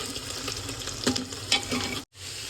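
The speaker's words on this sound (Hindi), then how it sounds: "ये मम्मी ने तेल तापा गरम हो गया, जीरा मिर्ची प्याज डाल दिया है।" Cumin, chilli and onion frying in hot oil in a home kitchen, a loud steady sizzle with a couple of stirring scrapes, briefly cut off near the end.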